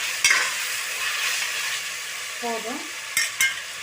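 Tomato fries with ginger garlic paste in a pan, giving a steady soft sizzle with a few spoon stirs and taps, while a voice briefly speaks.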